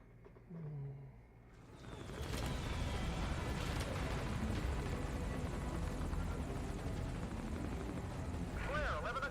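Video game helicopter roaring loud and steady for most of the stretch, a broad rotor and engine wash after a short quieter opening, with gunfire-like bursts mixed in and no speech over it.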